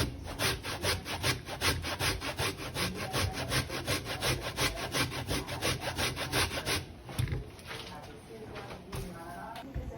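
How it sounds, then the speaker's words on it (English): Sweet potatoes rubbed hard against a grater at home, a loud rhythmic rasping of quick repeated strokes that slows and fades near the end, with a voice talking at points. "Let's continue grating my potatoes."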